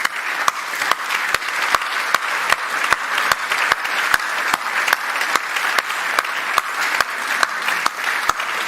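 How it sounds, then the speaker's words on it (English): Sustained audience applause at a school prize giving for pupils from fourth form to lower sixth, a dense, even roar of many hands clapping together that holds steady throughout. "I'd like to give you a round of applause"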